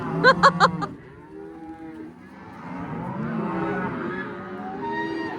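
Cows on a farm: a loud burst of rapid mooing close by at the start, then softer, longer lowing moos drifting on through the rest, with faint background noise and no talk.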